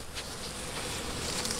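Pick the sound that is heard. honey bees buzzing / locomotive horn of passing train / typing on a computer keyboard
honey bees buzzing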